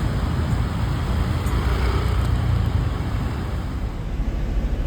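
Busy road traffic in Cebu City, a dense steady rumble of passing cars and heavier vehicles with a constant low drone and no distinct horns or voices, heard from inside or near a moving vehicle.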